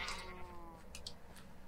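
Sheep bleating in the Minecraft video game, a few short game bleats near the start sounding over faint background noise, followed by brief higher clicks.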